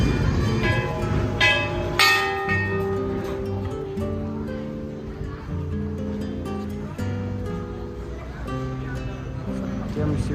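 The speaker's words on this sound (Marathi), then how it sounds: "घंटा वाजवा" Temple bells ring out repeatedly with clear metallic strikes and lingering tones, loud and close, alongside some background voices.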